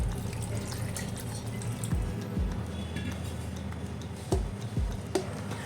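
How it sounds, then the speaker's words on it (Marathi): Cold water runs steadily into a container while making ghee, with a soft splashing flow, a few sharp drips and knocks standing out along the way. "पुन्हा यात गार पाणी घालून घेऊ"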